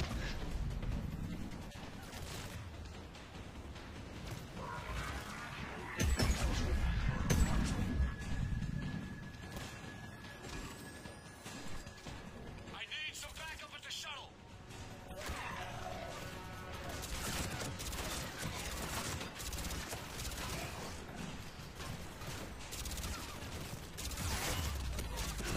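Bursts of gunfire in a Mass Effect 3 firefight, with rapid shots, impacts and crashes coming and going over a busy combat backdrop, and people talking intermittently.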